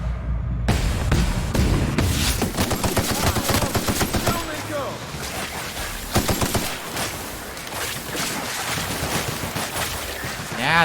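Rapid automatic gunfire from enemies in The Outer Worlds video game, dense bursts and volleys of shots continuing almost the whole time, loud and close, with a short gap near the start.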